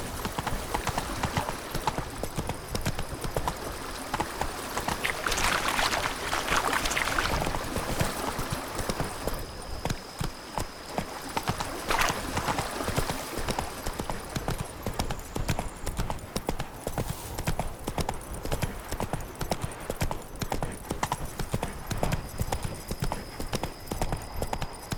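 Roach, the horse in The Witcher 3, gallops with steady, rapid clip-clop hoofbeats that run through the whole stretch over a constant game ambience, and a brief whinny-like sound rises around the middle.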